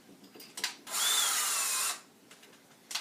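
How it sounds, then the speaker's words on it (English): A power drill whirs steadily for about a second as it bores the bottom hole in a stunt helmet, with faint handling clicks before and after. "now I'm going to drill this bottom hole"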